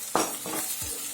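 Tomato sizzling in hot oil while making egg curry, with a few short bursts of stirring against the pan and a steady frying hiss underneath.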